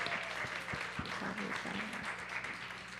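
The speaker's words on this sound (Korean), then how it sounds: "저희 친구들 앞으로 나갈 때 뜨거운 박수 한 번씩 쳐주시면 감사하겠습니다." A church youth-service congregation applauds warmly, a steady wash of many hands clapping at moderate distance, with some voices mixed in throughout.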